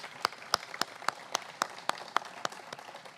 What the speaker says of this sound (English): So can we give a round of applause for the Advancement Project staff, please?